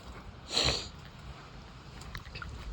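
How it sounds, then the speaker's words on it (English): A single close, short sniff, quick and breathy, outdoors by a shallow creek in dry air, followed by quiet background rustling. "The air is very dry. That's why I'm sniffling."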